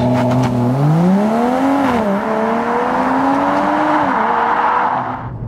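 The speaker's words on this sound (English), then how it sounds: "Now let's see what the launch control is like." A 2021 Mercedes-AMG CLS 53 in race mode makes a launch-control start on a wet road. The engine roars loudly and climbs in pitch through two quick gear changes before easing off at the end.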